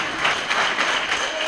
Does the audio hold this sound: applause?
yes